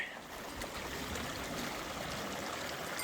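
A small mountain stream flowing on the Colorado Trail between Tennessee Pass and Timberline Lakes, a steady rushing and trickling of water close by, unbroken throughout.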